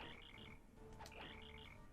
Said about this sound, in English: That's a frog croak.